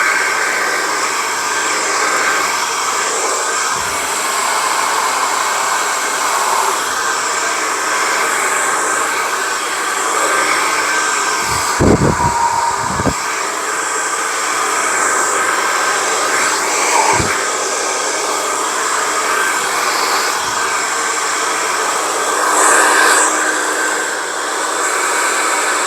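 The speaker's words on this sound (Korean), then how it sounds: "앞쪽에, 그리고 탑 쪽에 드라이를 한번 해보도록 할게요. 좀 시끄럽습니다." A hair dryer blows steadily and loudly for the whole stretch while the front and top of the hair are dried for a wavy updo, with a few brief handling knocks in the middle.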